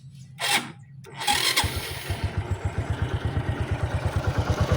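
A Honda XRM 125 motorcycle with a manual clutch conversion and a transmission rattle is started, a short crank followed by a steady, rapidly pulsing idle close by.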